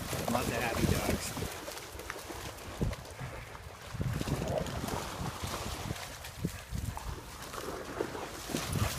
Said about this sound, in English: A little bit of rain, a little bit of wind.